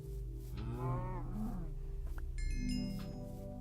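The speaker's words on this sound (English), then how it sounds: "as well as these cows over here" Cows in the Minecraft video game let out drawn-out, wavering moos, several overlapping calls nearby, over a low steady hum, with a short chime near the end and no talking.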